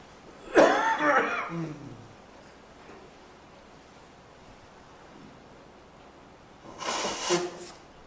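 Two bursts of coughing during a planning commission meeting, one near the start and another near the end, separated by quiet room noise.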